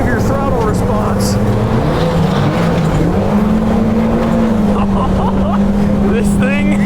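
A Can-Am Maverick R side-by-side accelerates hard in a parking lot, its engine a loud, sustained drone that climbs steadily in pitch, with people talking and exclaiming over it.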